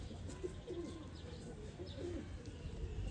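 Pigeon cooing from a breeding flier pigeon, soft low coos repeating in short phrases over a steady background hum, fairly quiet and moderately close.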